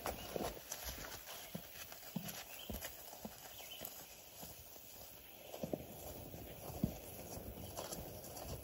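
A pony mule's hooves clop at a walk on a loose lead rope, faint, irregular steps against a quiet outdoor background.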